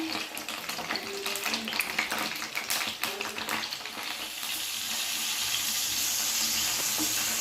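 Pointed gourd (potol) pieces fry in oil in a pan: a soft continuous sizzle with light stirring scrapes early on, turning to an even, steady hiss.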